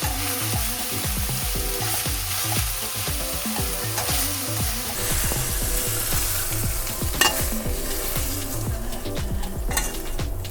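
Pork belly for Korean spicy pork sizzling on perforated foil over a grill, a steady, loud frying hiss with continuous crackling and popping throughout.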